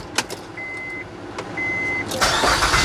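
A 2007 Honda Pilot 3.5L engine cranking and catching, with a couple of short electronic chimes before the engine fires and settles into a loud, close idle.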